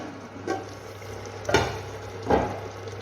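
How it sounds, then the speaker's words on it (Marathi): Mutton offal curry simmers in a pot, a low steady bubbling and gentle sizzle with three soft stirring scrapes spaced about a second apart, close and moderately loud with no talk. "तर तुम्ही बघू शकता इथं आपलं छान उकळे आलेले आहे"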